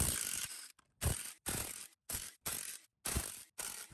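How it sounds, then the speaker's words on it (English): A small DeWalt impact gun hammers out 14 mm flex plate bolts on an FJ Cruiser crankshaft during an automatic transmission replacement. Several loud, rattling bursts are separated by short silences, each lasting about half a second. "I'm gonna see if this little DeWalt gun's up to the task."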